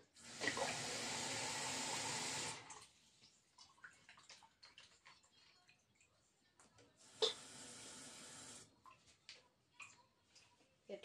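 A tap runs into a sink while snails are washed, two loud bursts of gushing water separated by a quiet gap filled with small clicks, drips and handling noises close by.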